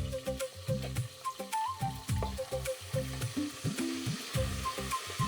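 Fenugreek leaves fry in hot oil for a festival curry, giving a steady close sizzle with soft crackles and a few brief stirring scrapes throughout.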